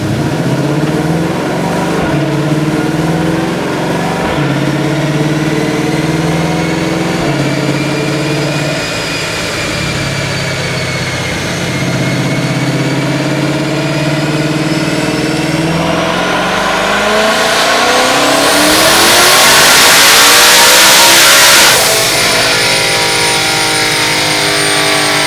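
A twin-turbo Shelby GT500 engine roars loudly on a dyno, holding a steady high drone that sags and climbs in pitch before surging to a peak with turbo whoosh and hiss.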